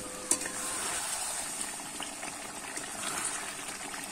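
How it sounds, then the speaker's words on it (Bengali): Meat curry simmering in a covered pot on the stove, a soft steady bubbling sizzle with faint liquid gurgles and one small clink near the start, quiet and continuous. "এবারে কিন্তু আমি ঢাকা দিয়ে একটু ফুটিয়ে নেব।"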